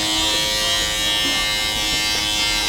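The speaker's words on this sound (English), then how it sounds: "When you start to shave the side of your hair" Electric hair clippers set to the highest guard number buzz steadily and loudly while shaving the side of a head during a home haircut, a continuous close whirring drone with no speech.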